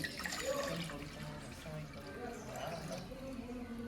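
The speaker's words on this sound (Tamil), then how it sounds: "இந்த மண் சட்டியில் கொஞ்சோண்டு தண்ணி ஊற்றுவோம்" Water pours and splashes into a clay pot nearby, a continuous gurgling trickle, with faint background voices.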